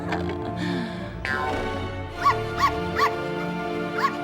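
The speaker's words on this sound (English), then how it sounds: "What was that barking from?" Inside the LEGO Batman video game, a dog gives four short, evenly spaced yips or barks over steady game music and sound effects, moderately loud and close.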